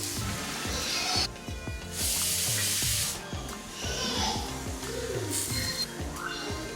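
Curry leaves dropped into hot oil with tomatoes and spices in a Kerala prawn curry, giving a steady close sizzle and hiss with bursts of louder spitting crackle throughout.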